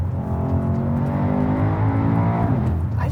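Brabus 800 Mercedes-Benz S-Class engine pulling hard under acceleration, a steady, deep, loud roar that rises slightly in pitch throughout, heard from inside the car with no voices.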